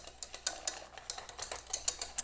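A whisk clicks quickly and steadily against a pot as kuzu is stirred into a vegan strawberry panna cotta mixture. The taps are close, light and rhythmic, with no talking.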